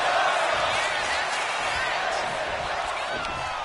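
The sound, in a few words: crowd cheering in WWE 2K26 video game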